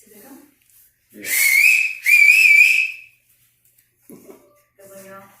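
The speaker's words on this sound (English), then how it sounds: "Want me to whistle?" A person whistles two sustained, slightly wavering tones back to back, loud and close, with brief talk before and after in a room.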